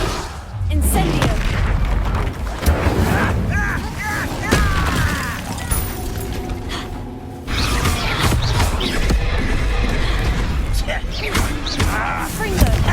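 Spell explosions from Bombarda and Confringo in Hogwarts Legacy crack and boom repeatedly through a dense, continuous battle din, with frequent impacts, clatter and magical whooshes and hardly a pause.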